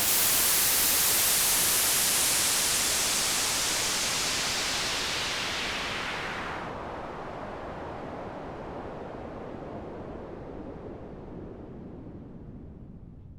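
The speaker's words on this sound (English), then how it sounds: "So let's hear what a low-pass filter sounds like on white noise." Loud broadband white noise swept downward by a low-pass filter, its highs rolling off first and leaving a darker, duller rush that keeps fading through the upper and lower mids, heard alone without any talk.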